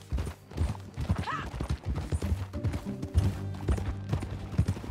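Horse hooves clip-clop in a steady trotting rhythm during a ride in Red Dead Redemption 2, close and clear, with a brief whinny and an ambient musical drone underneath.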